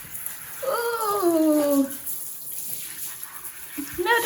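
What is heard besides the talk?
shower water running while washing a dog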